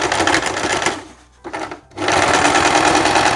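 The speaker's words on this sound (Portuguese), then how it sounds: "Aqui na parte da alça, a gente fazendo o outro pesponto." A sewing machine topstitches a dungaree strap in fast, continuous rapid bursts, close and loud, briefly pausing twice before running on steadily.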